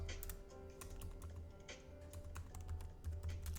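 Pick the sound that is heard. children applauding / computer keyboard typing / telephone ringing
computer keyboard typing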